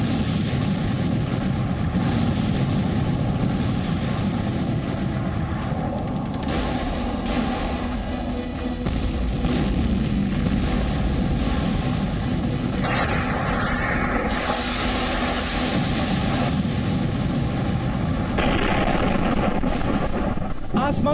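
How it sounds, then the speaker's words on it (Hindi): Russian missiles strike buildings and soldiers in Ukraine, producing repeated deep booms and rolling, rumbling blasts at moderate distance, with voices mixed in. "आसमान से बरसती रूसी मिसाइलें जब यूक्रेन की इमारतों को, यूक्रेन के सैनिकों को निशाना बनाती हैं"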